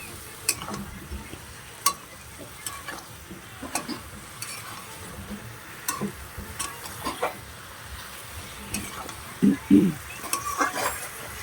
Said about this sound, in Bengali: এটাকে ভালো করে কষাই করে নিতে হবে, হুট করে জল দিতে যাবে না।